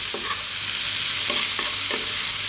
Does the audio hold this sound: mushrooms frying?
yes